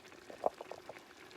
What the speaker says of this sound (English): pour it into the pot